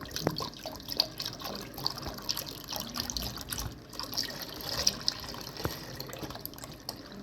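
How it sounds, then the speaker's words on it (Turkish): Milk pours steadily into a pudding mixture in a village kitchen, a continuous close liquid splashing and gurgling that runs unbroken throughout, no talking. "Malzemenin tamamını erittikten sonra sütün tamamını dökelim."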